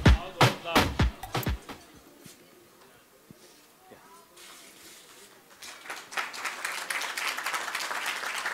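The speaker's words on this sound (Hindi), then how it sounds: "एक बार जोरदार तालियां इस इमोशंस के लिए" Applause from an audience at a Steelbird Helmets event: a few sharp claps at first, then quieter scattered clapping, then applause swelling again and continuing steadily toward the end.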